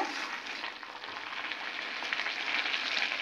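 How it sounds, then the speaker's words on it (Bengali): Cabbage frying in a pan, with plenty of water cooking out of it, makes a soft, even sizzling hiss that holds steady at moderate distance, with no talking. "ওদিকে হচ্ছে বাঁধাকপি ভাজা"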